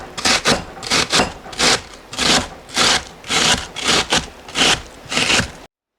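Half an onion is grated by hand in rhythmic back-and-forth strokes, about a dozen loud, close, wet rasping scrapes in a steady rhythm, with no voices.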